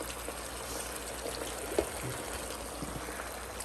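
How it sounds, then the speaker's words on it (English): Liquid poured over a cold potato salad made with freshly harvested potatoes, a soft steady trickle running for several seconds, fairly quiet and close, with one small tap partway through. "now I'm going to get ready to pour it over my salad"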